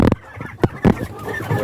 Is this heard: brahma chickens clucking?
yes